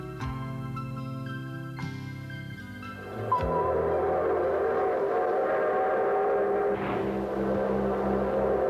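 An old passenger train sounds its whistle, a long, layered tone that breaks off, then a steady rumble and clatter of the train rolling close by with a faint high whine above it.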